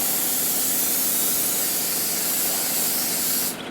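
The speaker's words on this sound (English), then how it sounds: "spray that pan good" Cooking pan spray hisses from an aerosol can onto a baking pan for mac and cheese, a continuous close, loud spray lasting a few seconds before it cuts off abruptly.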